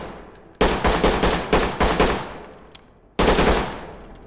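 Full-auto rifle gunfire in the tactical shooter game Ready or Not, two loud bursts of rapid shots, the first longer with a few separate volleys, then a short pause before a second brief burst, no talk.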